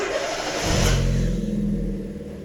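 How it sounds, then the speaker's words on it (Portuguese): A car engine cranks and catches, surges in a short rev, then settles into a steady idle after an electronic throttle body test, close and alone. "liga o carro"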